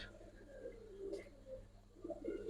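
Silver Giribaz pigeons, an old breed, coo in soft low murmurs that rise and fall across the stretch, moderately close, with a steady background hum beneath them.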